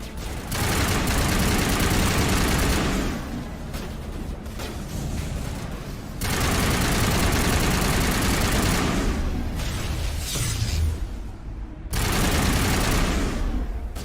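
Assault rifle gunfire in Mass Effect Legendary Edition comes in loud, dense sustained bursts, with brief lulls between long volleys, close and dominant throughout.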